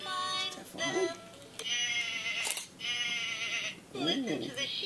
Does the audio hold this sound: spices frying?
no